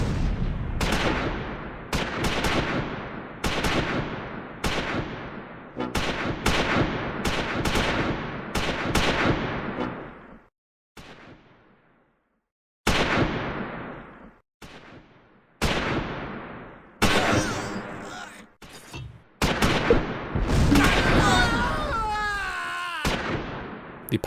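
A medium machine gun fires on German infantry in Close Combat 4, set in the Battle of the Bulge, in repeated loud bursts separated by short pauses, with other battle noises toward the end.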